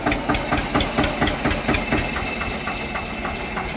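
An Eicher tractor engine runs close by with a loud, rhythmic diesel chugging and regular knocking pulses that settle into an even idle, with no voices.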